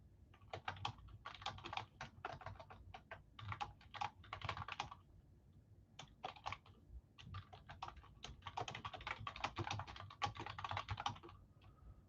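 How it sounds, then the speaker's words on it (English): Typing on a computer keyboard in quick, uneven bursts of key clicks with short pauses between runs, close and fairly clear, with no one speaking. "I'm typing right now."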